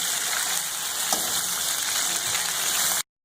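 Chicken frying in plenty of ghee for charsi karahi makes a dense, loud, hissing sizzle close by, steady for about three seconds before stopping abruptly.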